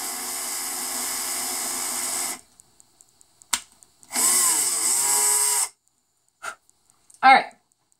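A small power drill bores into dried flower resin jewelry, whining in two short bursts separated by quiet handling clicks and taps, close and fairly loud.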